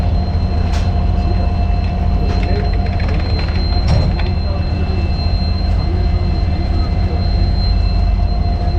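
Haldibari Intercity Express (12363) running at Rampurhat station, Kolkata to NJP route; a steady, loud rumble of the moving train with a constant tonal hum and brief wheel screeches, continuous throughout.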